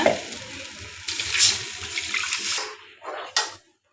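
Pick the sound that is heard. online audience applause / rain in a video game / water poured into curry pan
water poured into curry pan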